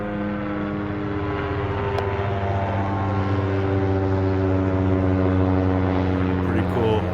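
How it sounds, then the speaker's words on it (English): A police helicopter passes overhead near an outdoor shooting range, its rotor and engine making a loud, steady drone that holds throughout without fading. "It's like a PD chopper."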